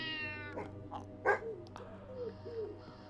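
A cat meows inside a black-and-white VR game, several short plaintive calls rising and falling over a low steady hum, fairly faint and spaced across a few seconds.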